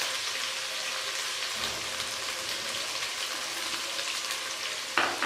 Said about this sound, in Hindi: और थोड़ी देर इसको और फ्राई करेंगे 1 मिनट के लिए